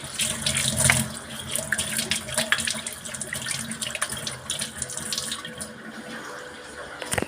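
Tap water runs steadily into a sink during face washing, a continuous close splashing stream with small shifts in flow and no voices.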